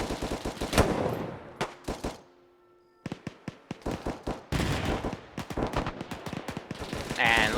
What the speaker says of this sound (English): This AA gun trying to fire up at Stewie.